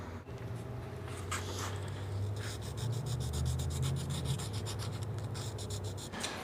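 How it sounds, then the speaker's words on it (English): Machine sander working scratches out of a car body panel during collision repair, feathering the edge back into the paint; a steady, continuous abrasive rubbing hum runs close and alone throughout. "And then I'm going to machine sand these out."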